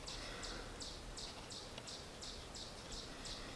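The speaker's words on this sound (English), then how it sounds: "That repetitive chirping sound is chipmunks, not birds." Chipmunks in a backyard give a repetitive chirping warning call, about ten evenly spaced high chirps sounding faint and distant over steady outdoor background noise.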